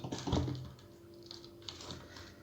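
Typing on a computer keyboard, a quick flurry of clicks followed by a few scattered keystrokes, close and fairly quiet, with no talk over them.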